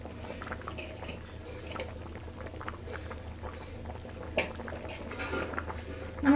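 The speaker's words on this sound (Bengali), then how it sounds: "ডালটা একটু ফুটতে দেব" Vegetarian dal simmers in a pot with a low, continuous bubbling and light patter, with an occasional soft knock of a utensil and no talking.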